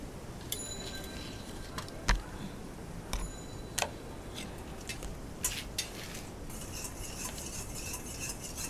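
A metal spoon clinks and scrapes against a pot while salt is added during cooking, giving a few sharp, scattered taps and light stirring noises close by over a low background hum.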